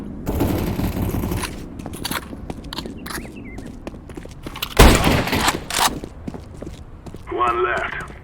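Gunfire from Counter-Strike: Global Offensive in a casual match on the Cobblestone map: an opening sustained burst of rapid shots, scattered sharp reports and footstep-like clicks, then one loud, close blast midway and a noisy rattle near the end.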